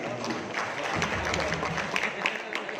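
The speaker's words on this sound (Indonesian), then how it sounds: "mari kita kasih aplaus untuk Pak" An audience at a village government briefing in Mojokerto breaks into sustained applause for the speaker, a dense, steady wash of many hands clapping with faint voices underneath.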